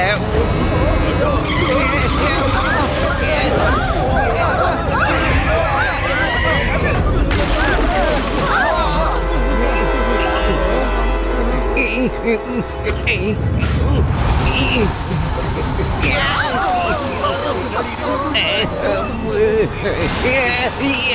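A cartoon bus careens out of control on a mountain road, with skidding tires and crash effects over sung and spoken voices and backing music.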